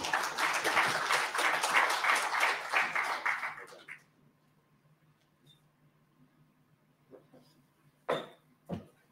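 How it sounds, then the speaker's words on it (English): At a conference, audience applause rises as a dense clapping wash for about four seconds and then stops abruptly, leaving a quiet room with a few faint knocks and thuds. "Please, another round of applause for the World Bank Country Manager, Mrs. Mbu"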